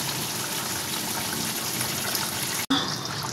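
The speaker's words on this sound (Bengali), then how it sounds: "জল ঢেলে দিয়েছি" Water pouring steadily into a pot of chicken curry, a continuous close splashing gush that cuts off abruptly near the end.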